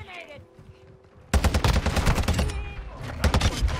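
Rapid bursts of TAQ-V rifle fire in Call of Duty, loud and close, rattling on for over two seconds with dense overlapping shots after a quieter opening stretch.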